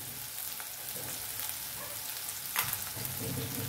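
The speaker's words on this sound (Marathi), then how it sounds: "आपला कांदा टमाटा किती छान मऊ झालेला आहे बघा, छान परतलाय" Onion and tomato soften and sauté in a pan, giving a steady soft sizzle and frying crackle with faint stirring, close and continuous with no talk.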